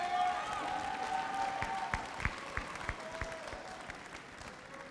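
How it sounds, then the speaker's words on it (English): Parents in the crowd at an outdoor high school graduation ceremony receive a round of applause from the graduates, a steady wash of clapping with scattered sharper claps standing out through the stretch. "give your parents a round of applause for the last 18 years"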